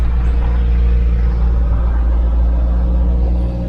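A Jeep Wrangler Rubicon 4-door Power Top climbs an off-road slope, its engine a loud, steady, deep rumble heard from inside the vehicle, holding an even drone with no voices.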